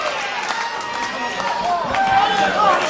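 A wrestling arena crowd at IWC Night of Legends 2011 roars and cheers steadily throughout, a dense, continuous wash of voices with faint whistles rising near the end, while commentary voices talk over it.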